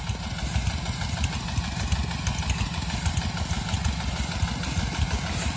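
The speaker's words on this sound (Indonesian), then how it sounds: "kalau kedengarannya itu bunyinya mesinnya itu sangat santai sekali" New engine-driven water pump on a six-inch bore well, idling with a steady, relaxed low rumble throughout, close and continuous, with no talk.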